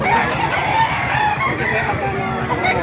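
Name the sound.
chickens crowing and clucking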